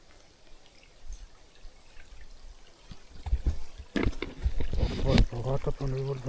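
Water trickles and drips from a road in the isolated mountain community of Arntully, western St. Thomas, Jamaica. It starts faint and grows louder and busier with scattered splashes toward the end, with faint voices nearby.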